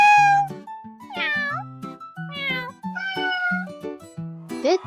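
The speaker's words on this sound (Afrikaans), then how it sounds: "Dit is 'n kat." A domestic cat meows several times in a row, each call clear and close with a rising and falling tone, spaced by short pauses and ending on a higher, rising cry.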